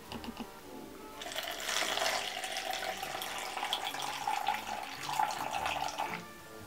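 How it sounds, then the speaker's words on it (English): Water runs from a tap into cups for a Halloween DIY experiment, a steady splashing stream lasting several seconds before stopping, fairly close and alone. "we're going to start by filling up these cups a third of the way"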